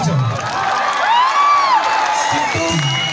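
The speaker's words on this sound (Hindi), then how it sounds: "जोरदार ताली" A college crowd at a stand-up comedy show cheers and whoops loudly, shouts and voices rising over a dense, lively roar with scattered clapping, close and energetic.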